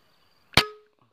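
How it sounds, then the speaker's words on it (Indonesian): A single sharp air rifle shot from a Mouser OD 28, loud and close, with a short decaying ring afterward and otherwise quiet surroundings. "Oke, tembakan terakhir, tembakan kelima."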